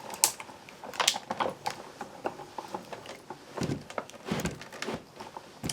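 Older die-cutting machine clicking and clunking as card passes through, irregular close mechanical clicks and knocks in uneven bursts, fairly quiet, with no talk.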